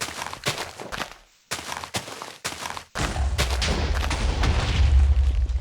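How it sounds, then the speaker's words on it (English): In Minecraft's Twilight Forest labyrinth, a boom goes off from a trapped loot room below, heard after a few choppy thuds as a loud, sustained rumbling roar that fills the last half and stays strong to the end. "so did you guys hear that explosion?"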